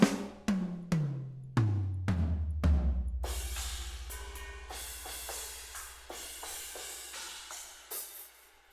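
Jason's Punchy Super Kit drum sample library plays a drum pattern: several punchy kick-and-tom hits with booming low tails, then a full kit with crashing cymbals and steady hits, loud and close with no voices.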